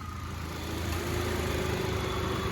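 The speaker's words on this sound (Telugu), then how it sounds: "సింగిల్ సెల్ఫ్లో బండి స్టార్ట్ అవుతుంది సార్" A 2011 Hyundai i10 Magna engine idles steadily at close range, a low even hum with slight vibration throughout.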